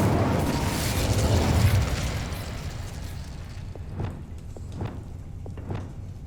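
In the Hogwarts Legacy video game, a fire spell erupts in a rumbling, fiery burst that slowly fades, followed by several sharp, softer pops and crackles.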